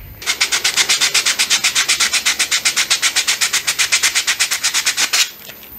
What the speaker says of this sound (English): I've got some 60 grit wrapped around a paint stick, and we are going to just kind of stick that in there and get these things sliding around in here